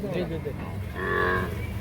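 A Sahiwal calf gives a loud, drawn-out moo close by at a cattle farm in Chittagong, with other cattle and background murmur around it.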